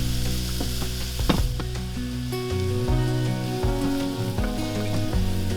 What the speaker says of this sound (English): We're gonna add our onions and our garlic. We're just gonna let these saute for just a minute or two